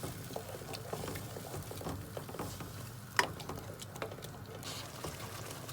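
Powdered spices stirred into frying mutton masala with tomatoes, a faint, busy bubbling and spattering patter marked by soft scraping and one brief sharper clack of the spoon.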